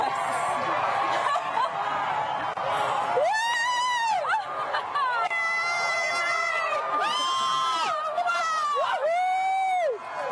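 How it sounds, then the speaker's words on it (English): Stadium crowd roaring and cheering as a solar eclipse reaches totality, a broad sustained din with excited voices shouting in rising, swooping calls throughout. "Wow, the crowd is counting down."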